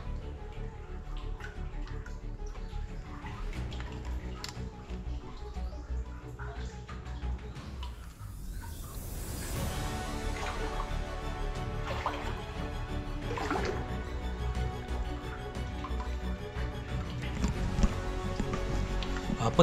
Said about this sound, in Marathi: आता या पाण्यातून आपण चाललेलो आहोत गुफेमध्ये